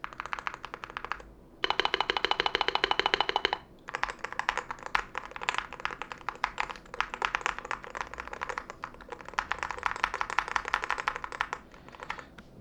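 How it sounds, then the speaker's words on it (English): Someone types on an MCHOSE ACE 68 GT keyboard at close range, making dense clacking keystrokes. A faster burst comes early, and the typing continues in steady runs with brief pauses. "I'm gonna get as close as I can to the keyboard with my camera and I'm gonna be pressing some keys"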